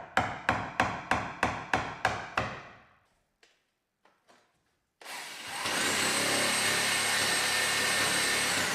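Eight sharp metallic hammer strikes ring out in an even rhythm on a Citroën Ami side panel, followed by a few faint taps, then a loud continuous whooshing drone.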